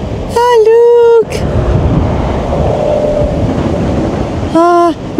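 Strong wind at an Arctic fjord near Tromsø, Norway, roars and buffets the microphone loudly and steadily. Brief tonal wails cut in at the start and again near the end.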